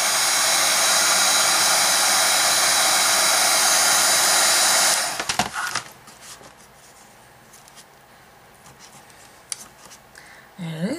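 A heat tool blows hot air onto glue to loosen it, giving a loud, steady whooshing roar that cuts off after about five seconds, followed by quieter scraping and handling sounds.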